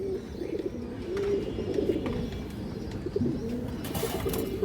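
Soft, low coos of domestic pigeons, including female high-flyers, repeat steadily against a faint background hum, with no talking.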